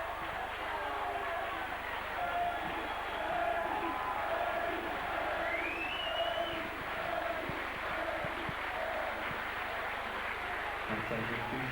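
A rugby league crowd at a St Helens versus Wakefield match in 2000 applauds a player leaving the field as a substitute. The clapping and crowd murmur run as a steady wash under continuous commentary.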